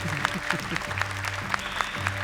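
A studio audience at a Hafiz Indonesia 2019 television show claps in steady rhythmic unison, close and fairly loud, with a voice speaking over the applause.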